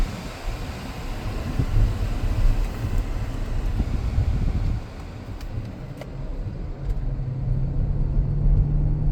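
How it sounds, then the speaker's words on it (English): Steady interior road rumble and wind noise from a 2017 LWB car driving around the block, a continuous low drone with a faint fan hum and no talking. "Turn down the air just a little bit so you can hear more of the car."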